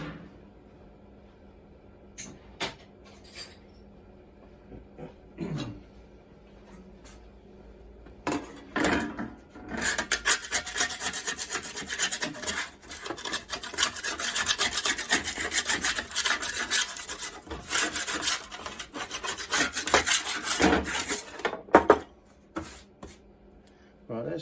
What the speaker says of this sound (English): I'm just going to get that cement off because that will affect the roller. So I'll scrape that off.